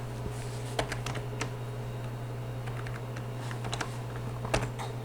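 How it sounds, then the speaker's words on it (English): Quick keystrokes on a computer keyboard while entering a MATLAB command, a scattered run of light clicks over a steady low electrical hum, close and moderately quiet. "So here I type the y."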